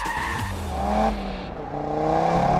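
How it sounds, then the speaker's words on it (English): An Audi TT RS is flung sideways through corners on a handbrake slide, its engine revving hard and easing off in loud bursts while the tyres squeal and scrub across the tarmac, all close up with no talk. "Drifting's not on, it's going to have to be the handbrake, jiggly handbrake, and power, and off, and power, straighten it up"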